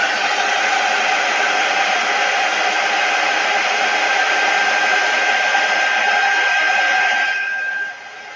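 A heat tool blows steadily and loudly to dry a craft transfer on a wooden snowflake door hanger, a continuous airy whoosh that holds for about seven seconds before cutting off.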